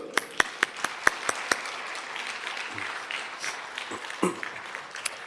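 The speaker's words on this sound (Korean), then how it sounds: "우리 한번 격려의 박수." Applause of encouragement in a Korean church congregation at a Friday worship service, opening with several sharp distinct claps that blend into a moderate, steady wash of clapping, with faint background sounds.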